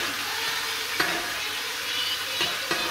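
Steak sizzles steadily in a pan of butter with rosemary as it is basted, a dense continuous hiss broken by a few faint spoon or pan knocks; no voices.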